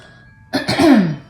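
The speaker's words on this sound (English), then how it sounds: "clearing my throat." Someone clears their throat once, a short rough rasp after a moment of near silence.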